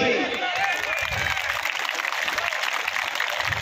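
Audience applause breaks out at a political election rally in India, a dense, steady wash of clapping from a large crowd, loud and continuous across the whole stretch with a few cheers mixed in.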